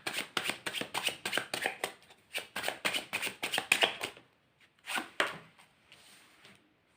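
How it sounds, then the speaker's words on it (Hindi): Rapid rhythmic riffling of a tarot deck being shuffled, a dense run of crisp card slaps for several seconds, a pause, then a few more shuffles and soft card handling, close and alone. "मैं सारे कार्ड्स निकाल लेती हूँ और फिर आप लोगों को बताती हूँ आराम से"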